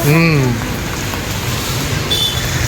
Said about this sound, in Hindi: बारिश तो तेज़ हो गई है बहुत